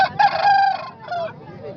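A rooster, an Aseel, crows loudly nearby at a poultry market by Tando Adam station, a strained cock-a-doodle call followed by a shorter trailing crow, with a faint murmur of background noise.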